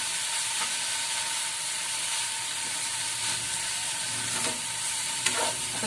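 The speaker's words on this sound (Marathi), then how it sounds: "अशी चांगली मिक्स करून घ्यायची भाजी।" Fenugreek leaf vegetable is stirred and mixed in a hot pan in Malvani style, with a steady sizzle and repeated scraping of the spatula close up and no talk.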